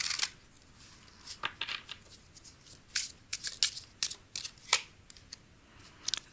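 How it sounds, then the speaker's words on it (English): Oracle cards shuffled by hand, a series of short crisp papery riffles and snaps in uneven bursts, close and fairly quiet with no talking. "And last shuffle here."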